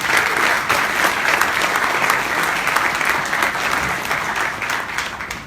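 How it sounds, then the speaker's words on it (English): Audience applause for a culinary mentor at a Vietnam–New Zealand culinary collaboration event: dense, steady clapping from a sizeable crowd, loud and sustained throughout with no pauses. "We give her a round of applause."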